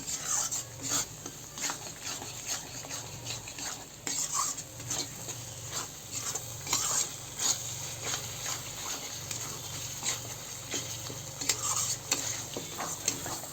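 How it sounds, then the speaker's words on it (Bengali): Spice masala frying and being stirred in a pan for a rohu fish curry with spinach: continuous spoon scraping and clinking against metal over a low sizzle, close but fairly quiet, with no talk. "এই মশলাটা ভালো করে কষাই নেব।"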